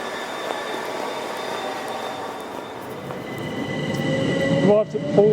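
A passenger train pulls into Pulborough railway station on the LB&SCR line to Horsham, a steady rolling rumble with rising wheel and brake squeal near the end as it slows to a stop close by.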